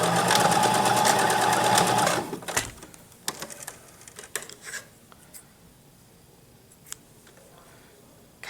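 Sewing machine stitching and back stitching a duck-shaped pillow, a steady close whirring run for about two seconds that stops abruptly, followed by scattered light handling clicks and rustles.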